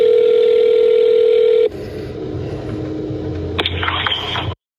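A steady telephone line tone hums loud and alone at the start of a recorded phone call, then cuts off into a quieter line hiss with faint clicks and a brief rising electronic chirp before ending.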